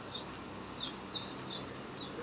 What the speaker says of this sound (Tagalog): nagkakantahan ng mga ibon